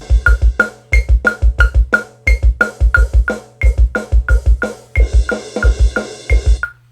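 A punchy drum loop plays alone after EQ with a snare-range boost, kick and snare hits in a steady repeating groove, with hi-hats and a cymbal wash joining toward the end.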